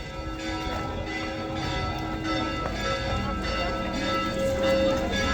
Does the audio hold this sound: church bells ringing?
yes